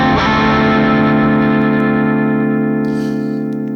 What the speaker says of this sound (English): it's just got that Matchless Clubman sound